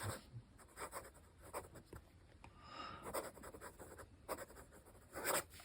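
A Pilot Custom 823 fountain pen with a medium nib writes on inexpensive paper, making close, quiet scratchy strokes in short bursts with brief pauses.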